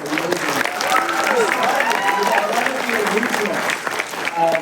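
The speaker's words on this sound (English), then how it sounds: "give him a round of applause" Audience at a FanX Salt Lake City 2025 panel claps for a guest, steady moderate applause mixed with voices talking over it throughout.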